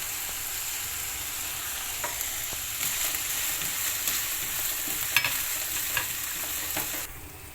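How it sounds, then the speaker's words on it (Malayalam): Chopped onion and green chilli fry in a pan, giving a continuous close sizzle with light stirring clicks and scrapes, no talking. "ഒരു ചെറിയ പീസ് സവാള അരിഞ്ഞതുണ്ട്, അതുകൂടെ ഒന്ന് ഇട്ട് കൊടുക്കാം."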